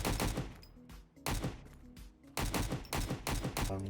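Bursts of automatic gunfire in the survival shooter Road to Vostok, loud and close, fired in several rapid sprays separated by short pauses, with sharp repeated cracks and a ringing tail.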